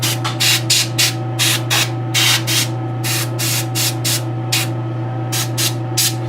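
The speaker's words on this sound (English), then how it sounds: "I like to use the airbrush because it kind of sprays the water all over the place." Airbrush spraying water and paint onto a miniature, repeated short hissing bursts in an irregular rhythm over a steady compressor hum, close and fairly loud.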